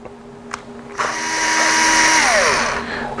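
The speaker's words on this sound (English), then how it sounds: "put it on my electric drill, and just have at it." An electric drill driving screws on an Arrma Kraton and Talion RC truck whirs briefly, then spins up into a loud, close whine that winds down near the end, with a few small clicks before.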